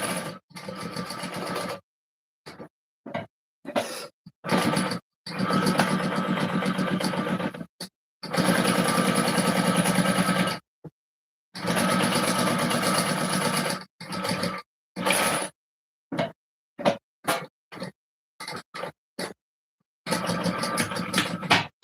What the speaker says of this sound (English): Just going to run the stitches across there.